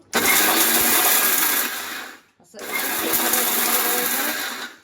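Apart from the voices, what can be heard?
mixer grinder grinding garam masala spices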